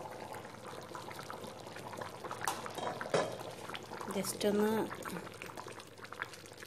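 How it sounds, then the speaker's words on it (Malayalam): A Kerala-style chicken curry with coconut milk bubbles steadily in a pot, soft and close, while a person talks over it and a utensil clinks briefly. "നമ്മുടെ ചിക്കൻ കറി ഇപ്പോൾ നന്നായിട്ട് തിളച്ച് തുടങ്ങിയിട്ടുണ്ട്."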